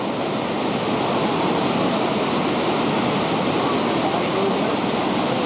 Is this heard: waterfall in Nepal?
yes